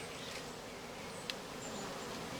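Honey bees buzz around hive frames, a steady dense hum close by with one brief sharp click partway through, no voices.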